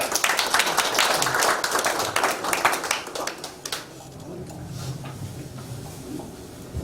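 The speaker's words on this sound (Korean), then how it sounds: "우리 박수로 한번 안녕하십시다" An audience at a church mission forum claps to greet the next speaker. Brisk applause lasts about three and a half seconds, then drops away to quiet room tone.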